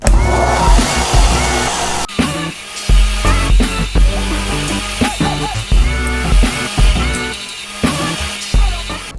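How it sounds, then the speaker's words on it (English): Silver dollar coin ring being thinned against a power sander, a steady loud grinding whine with repeated short bursts as the metal is pressed and lifted. "we're going to go do that on the sander"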